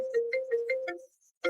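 Phone ringing from an incoming spam call: a loud, close electronic ringtone of repeated melodic beeps, breaking off briefly before starting again, with no talk.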